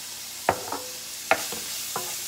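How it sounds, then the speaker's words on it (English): Sausage and minced garlic are stirred in a hot pan for a keto egg roll in a bowl: several sharp utensil scrapes and taps land over a steady sizzle. "mix it all around in there and let it get cooking"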